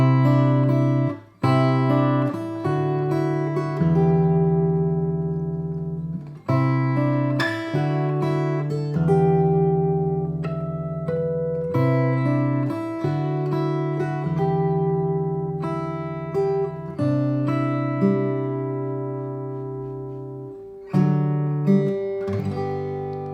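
Fingerstyle acoustic guitar plays a chord progression with a melody woven through the chords, notes ringing clearly with steady plucked phrasing over about twenty seconds, solo and close.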